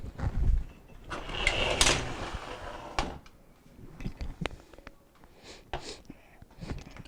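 A Maytag refrigerator's freezer drawer is slid onto its rails, giving scraping slides and several sharp plastic knocks and clunks at close range, with no talking.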